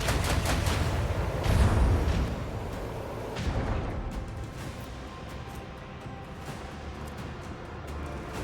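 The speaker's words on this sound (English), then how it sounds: "And the Mars pattern macro battery." Macro battery broadsides from a ship's Mars pattern weapon in the Warhammer 40,000 game Rogue Trader, a dense roll of heavy booming gunfire with a louder burst early on, then a sustained rumbling barrage.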